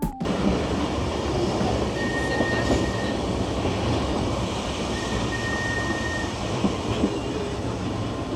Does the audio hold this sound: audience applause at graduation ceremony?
no